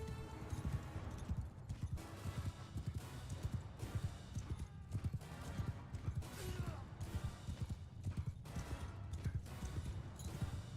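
Horse hooves clip-clop busily through a battle in the Mount & Blade II: Bannerlord video game, a dense, continuous trampling of many mounts with scattered clanks and occasional whinnies, loud and close throughout.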